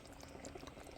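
Pieces boiling in a cooking pot, a faint bubbling simmer with small soft pops and gurgles, close and quiet with no voices.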